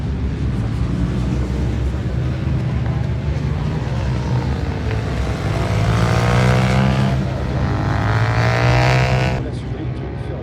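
Race cars at the Nogaro circuit during qualifying, engines droning continuously with one car swelling louder as it passes at mid distance; a voice talks over the steady motor noise.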